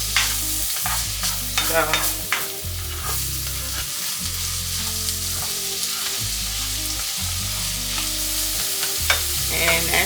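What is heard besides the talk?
sauteing onions in a pan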